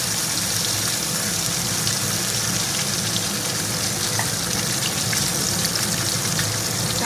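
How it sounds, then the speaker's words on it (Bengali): Fish frying in a pan: a loud, steady sizzle hisses without a break, close up and even in level, with no voices. "ভালো করে মাছগুলো ভেজে নেবো।"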